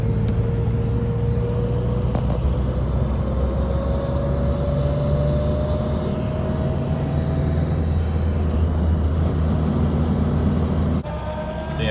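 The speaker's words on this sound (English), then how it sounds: "We're in third gear right now." A vintage Morris Minor 1000 driving in third gear, with a loud, steady engine drone and road rumble from inside the car and a slowly rising engine tone as it gathers speed.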